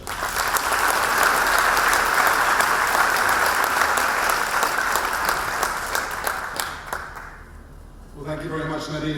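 Audience applause at a tech hub launch event, a full, steady burst of clapping from a room of people that fades out after several seconds before a voice begins speaking.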